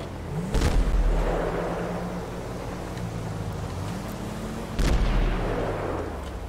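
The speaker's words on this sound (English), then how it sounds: "Fireworks." Fireworks go off in GTA V near Sandy Shores: two deep booming blasts about four seconds apart, each followed by a long rumbling tail over steady low background noise.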